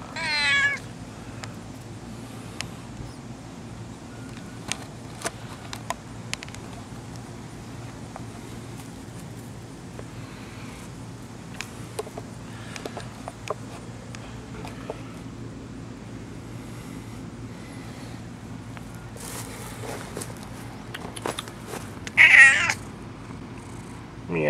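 A cat meows in a garden: a few short, clear meows near the start and again later, separated by long quiet stretches over a low steady background hum.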